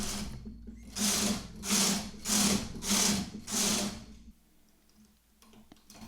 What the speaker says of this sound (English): I'm going to again knit 6 rows.